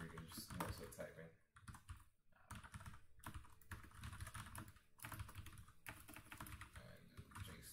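Rapid typing on a computer keyboard clatters close by in bursts of key presses with brief pauses between, while a voice talks faintly at times.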